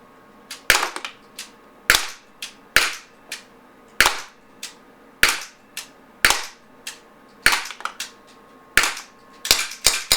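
Beretta Px4 Storm Recon 4.5mm pellet pistol fired rapidly, a string of sharp, close cracks in uneven quick bursts of two or three, with brief gaps between, and no voices.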